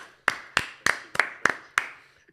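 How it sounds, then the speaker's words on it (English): Six sharp, evenly spaced claps ring out, close and distinct, each decaying quickly, with a short pause before the last one. "Round of applause, everyone."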